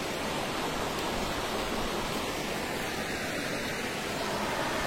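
A blocked stream sends water rushing past in a steady, broadband wash, constant and fairly close, with no voices over it.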